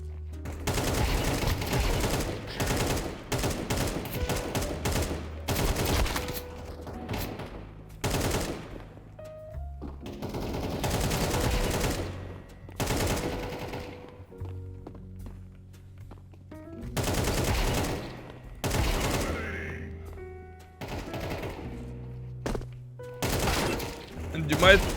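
Rapid automatic gunfire sprays in Counter-Strike 2, in repeated bursts of dense shots separated by short pauses, loud and close with no talk.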